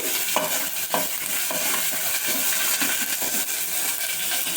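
Turmeric being roasted and stirred in a pan while making rasam: a steady close sizzle with regular scraping stir strokes roughly every half second, no voices.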